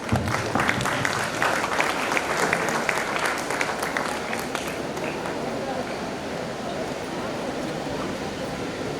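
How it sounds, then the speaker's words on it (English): Audience applause at an Independence Day celebration at AIIMS Hyderabad in Bibinagar, a dense crowd clapping that is strongest at the start and then holds steady at a lower level for about nine seconds. "A round of applause please."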